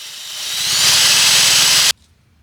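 A Dremel rotary tool works on a candle during finishing, giving a loud, steady high-pitched whine with hiss that builds over the first second, holds, then cuts off abruptly near the end.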